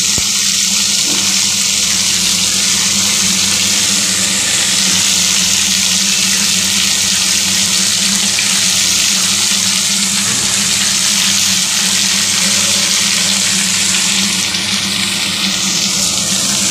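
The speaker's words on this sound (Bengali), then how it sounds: "ভাজতে দিয়েছি।" Drumstick stalks frying in hot oil in a pan, a loud, continuous dense hiss and crackle close up, with no voices.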